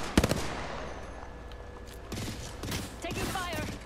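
Enemy gunfire in Apex Legends: a sharp, loud burst of rapid automatic shots at the start, followed by more scattered firing and game effects mixed with a voice.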